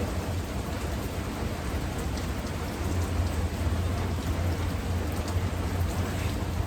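Steady rain drums on a metal roof on a rainy day, a dense continuous patter that swells slightly louder midway and holds alone with no voices.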